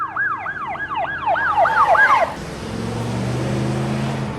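An ambulance siren in a TV drama wails in a loud, rapidly rising and falling pattern for about two seconds, then gives way to a rumbling vehicle and dense background noise.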